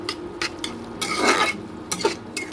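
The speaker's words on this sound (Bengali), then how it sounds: "মশলাটা আমি একটু ভালো করে কষে নেব।" A spoon stirs and scrapes through frying spice masala with coriander and turmeric in a metal pan. It gives close, loud clanks and scraping strokes over a soft background sizzle, and the stirring comes in irregular bursts.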